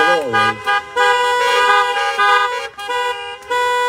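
Sustained car horns honk together during a church worship service, loud and layered, with brief gaps and a couple of sharp breaks before the blaring resumes.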